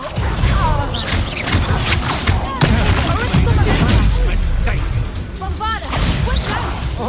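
A Bombarda spell blast in Hogwarts Legacy combat: crashing impacts and whooshing bursts fill the scene, heavy and continuous, with voices over the action.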